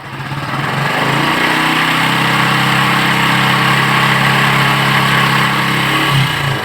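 A small Moto AlphaV2 motorcycle engine runs loud and close, revving up and holding a higher steady drone before easing off near the end.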